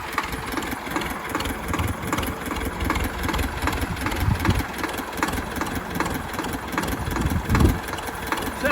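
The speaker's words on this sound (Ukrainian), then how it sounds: "І зараз ми побачимо, чи потягне собі трактор і вийде з цього положення." A homemade T-25 tractor converted to four-wheel drive labours while ploughing a field, its engine droning steadily with surging, uneven bursts of load and a heavy low rumble throughout.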